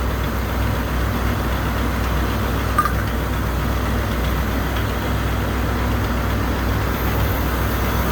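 A 1959 Cadillac engine idles steadily with a low, continuous rumble throughout, no voices.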